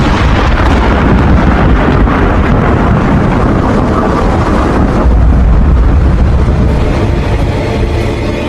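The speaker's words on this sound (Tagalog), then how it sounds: "isang malakas na kidlat ang tumama sa puno sa gilid ng kubo" A loud, sustained crash of thunder from lightning striking a tree beside a nipa hut rolls and rumbles heavily for several seconds, with no voices.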